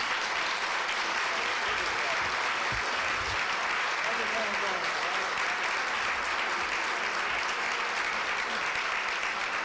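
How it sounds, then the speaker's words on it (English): An audience at a public event applauds legislators in a dense, sustained wash of clapping that stays loud and steady for nearly ten seconds, with faint voices mixed in. "you should give them a round of applause"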